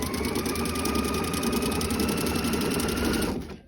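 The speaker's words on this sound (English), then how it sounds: "Pull it, hold it, and sew." A sewing machine running a zigzag stitch on underwear fabric, a fast steady mechanical chatter at close range that stops abruptly at the end.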